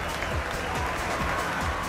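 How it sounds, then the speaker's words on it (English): Large crowd of thousands applauding and cheering as Celine Dion returns home, a dense, steady wash of clapping and crowd noise with no break. "There were thousands of people cheering on Celine that were happy to see her back"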